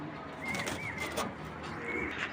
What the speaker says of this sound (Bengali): খুব ভালো কবুতর এটা